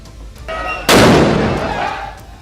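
Celebratory fireworks set off by crowds waving the national flag after India's T20 World Cup win; a single loud, close burst of noise erupts and slowly decays over a murmuring street background.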